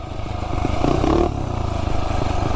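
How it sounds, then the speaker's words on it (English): A pit bike engine fitted with a new aftermarket exhaust pipe and muffler runs close by, a steady throbbing idle that rises briefly before settling. "It feels like it runs really good with this pipe."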